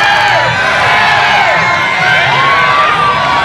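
A crowd at the Sasuke obstacle course cheers a contestant, a loud, dense wall of shouting and high whoops with children's voices rising and swelling across the whole stretch.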